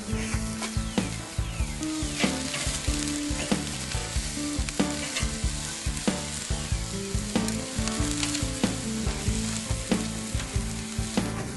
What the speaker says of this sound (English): We're caramelizing these onions.